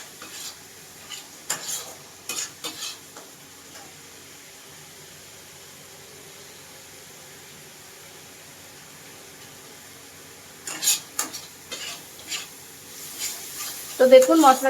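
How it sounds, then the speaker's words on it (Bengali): Spice paste being fried down in a pan, heard as a quiet steady sizzle with bursts of spoon-scraping and stirring clatter near the start and again toward the end. "তো এই মশলাটাকে আমি একটু কষিয়ে নেব"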